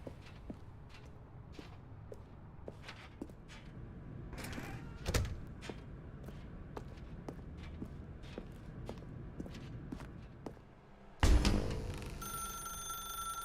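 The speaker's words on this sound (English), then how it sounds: "Now pick up the phone." A telephone rings in the video game The Stanley Parable, loud and close near the end, after a steady series of footsteps and a few knocks.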